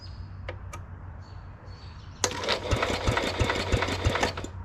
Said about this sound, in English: I'm just gonna hit the key and see if it'll crank.